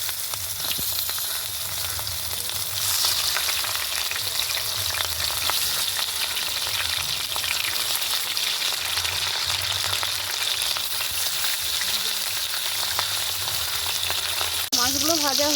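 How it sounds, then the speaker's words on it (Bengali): Catla fish pieces fry in hot mustard oil with a steady, dense sizzle and crackle that runs unbroken and fairly close throughout, with a brief clink near the end. "সরষের তেল দিয়ে দিলাম, মাছটা আগে ভেজে নেব।"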